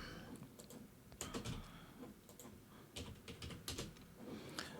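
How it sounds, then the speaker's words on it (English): Keys clatter on a computer keyboard in irregular bursts while a date of birth is entered into an online France Schengen visa application form, close and moderately quiet with no voices. "I'll type in my date of birth"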